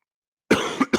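Two harsh coughs from a man who is feeling sick, close and loud, the first bursting out after half a second of silence and the second following shortly after.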